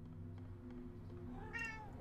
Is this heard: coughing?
no